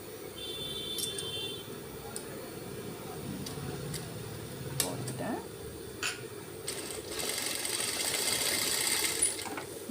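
Sewing machine stitching cloth in a tailoring class, a faint steady whir with scattered mechanical clicks and taps, under a quiet voice.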